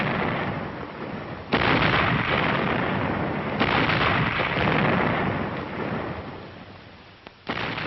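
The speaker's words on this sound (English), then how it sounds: "A synchronized barrage, with the entire regiment backing up Glamour Gal as she blistered the paint off her tube" A WWII artillery regiment fires a synchronized barrage with the gun Glamour Gal, a dense, continuous roar of heavy gunfire with sharp louder blasts standing out near the start, middle and end, no voices.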